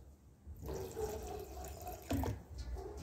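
Paint catalyst trickles in a short, thin stream into a paint cup, a soft liquid splash starting after a quiet moment and continuing with small irregular pours, close and faint.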